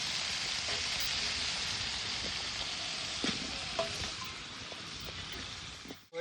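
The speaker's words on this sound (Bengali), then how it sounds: "পটল ভাজা হয়ে গেছে আমার, এখন আলুগুলো ভেজে নিচ্ছি।" Potatoes frying in a pan in a home kitchen, a steady close sizzle that runs the whole time, with a few faint clinks and stirring sounds and no voices.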